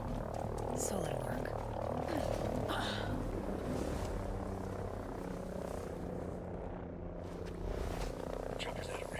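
A helicopter in the military shooter game Ghost Recon Breakpoint throbs with a loud, continuous rotor chop. Voices and game noise sit over it throughout.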